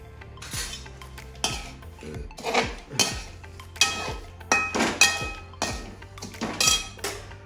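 Fryums stirred in a pan with tongs, giving repeated metallic clinks and scraping rattles of pieces being tossed around, steady and close with no talking.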